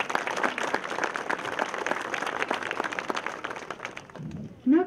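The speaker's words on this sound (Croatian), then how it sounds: "Molim vas da im se zahvalimo jednim velikim aplauzom" An audience at a novel launch event applauds, steady dense clapping for about four seconds that fades out, followed by a brief voice at the end.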